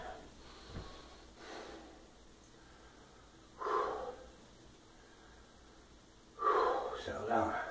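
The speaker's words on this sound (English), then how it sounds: "Still breathing a little bit tough from the first one." Heavy, labored breathing after a set of 20 sandbag squats, quiet panting punctuated by two louder, rough exhalations in the second half, close and without talk.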